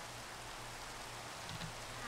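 Steady, soft rainfall in the video game Minecraft, a continuous even hiss of falling drops with no talking.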